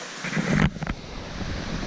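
A river in the Great Smoky Mountains rushes steadily beside a campsite, a continuous broad hiss of flowing water with a brief rustle and thump near the start.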